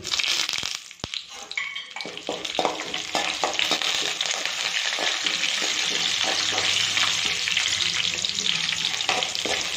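Chana dal crackles as it fries in groundnut oil, a bright sizzle with scattered pops and a few stirring scrapes. It starts with an uneven burst and then settles into a steady hiss.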